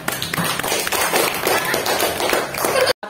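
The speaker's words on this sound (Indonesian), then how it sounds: "dah, tepuk tangan." Sixth-grade schoolchildren clap their hands in a dense, rapid burst of many overlapping claps, loud and close, continuing for about three seconds before cutting off abruptly.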